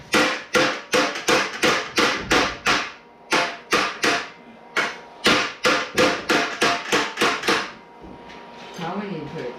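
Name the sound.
hammer striking a Model A subrail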